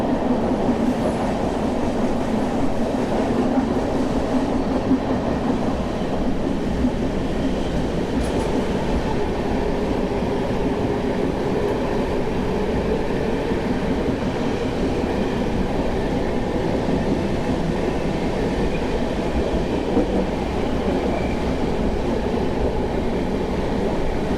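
Goda Mumbai LTT superfast express rolling into a tunnel, heard from inside the coach: a loud continuous rumble with wheel clatter and a roaring echo that stays steady throughout, no voices.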